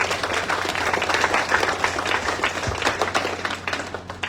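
Audience applause at a school centenary ceremony in La Vallée, a steady wash of clapping from a crowd filling the whole stretch at moderate loudness, with no speech over it.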